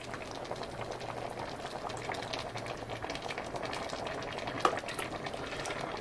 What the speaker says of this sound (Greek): Αφήνουμε να βράσουν για άλλα 20 λεπτά.